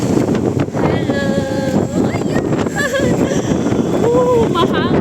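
Strong wind buffets the microphone on an open-top sightseeing bus moving through Hong Kong near Kowloon Park, a constant loud roar with voices and faint traffic sounds mixed in.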